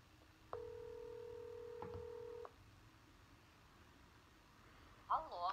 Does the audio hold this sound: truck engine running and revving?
no